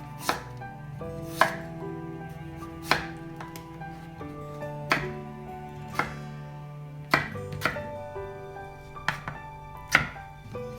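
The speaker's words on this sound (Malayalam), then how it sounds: "നമുക്ക് ഇതേപോലെ സ്ക്വയർ പീസായിട്ട് അരിഞ്ഞെടുക്കാം." A knife chops green tomatoes into small square pieces on a board, about eight crisp evenly spaced knocks roughly a second apart, close by with no talking.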